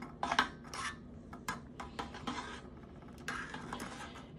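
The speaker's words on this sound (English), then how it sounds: "I'm just going to stir this, because these tea leaves are going to open pretty nice size" A spoon stirs loose tea leaves in a teapot, close up: soft clinks and scrapes of metal against the pot, with brief sharper taps between quieter rubbing, and no talking.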